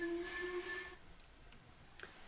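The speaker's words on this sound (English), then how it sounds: "Blow the whistle." Steam locomotive whistle of a Jubilee Class engine on the Keighley & Worth Valley Railway in Train Simulator 2021, a fairly faint two-tone blast lasting about a second over steady hiss, followed by light clicks.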